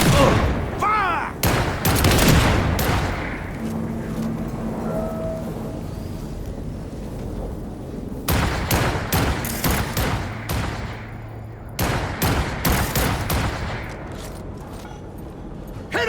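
Bursts of gunfire in the Cyberpunk 2077 Phantom Liberty expansion, loud clustered volleys near the start, middle and end with a steady combat bed between, and a voice calling out during the firing.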